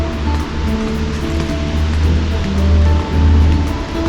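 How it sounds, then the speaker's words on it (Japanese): A waterfall in the rainforest near Kuranda, Cairns roars as a steady, loud broadband rush with no pauses, heard from fairly close with no voices. "あ、滝。"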